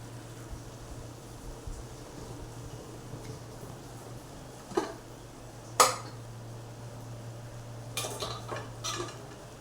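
Boiled chickpeas are scooped from a pressure cooker pot in a kitchen, giving a few sharp metallic clinks and scrapes of a spoon against the pot over a steady low hum, with no talk.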